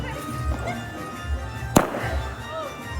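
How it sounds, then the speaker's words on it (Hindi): A sky shot firework goes off at a Diwali celebration, a single sharp crack rising out of outdoor background noise, with people talking around it. "देखियो स्काई शॉट स्टार्ट"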